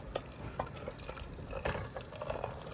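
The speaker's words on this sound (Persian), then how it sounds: "ببینید جلزه ولزش هم در اومد" Qeymeh stew with fried split peas sizzles and bubbles in a pot, a soft, continuous crackle with scattered louder pops and stirring scrapes, close and faint, with no talking.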